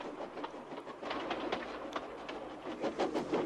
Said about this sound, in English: he was pulling a dirty freight train